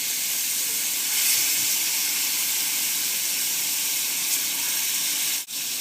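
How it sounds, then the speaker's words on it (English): Water splashes into a hot pan used for filet mignon, and steam hisses loudly and steadily throughout, with a brief dip near the end and no talking. "a little splash of water. Be careful here, it'll make a lot of steam"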